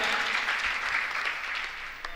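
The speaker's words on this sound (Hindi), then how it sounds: "एक बार जोरदार तालियां उनके लिए हो जाएं।" Audience at a mushaira poetry event breaks into steady, dense applause, a continuous wash of clapping that holds for a couple of seconds before easing slightly.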